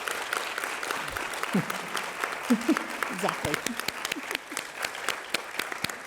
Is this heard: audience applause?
yes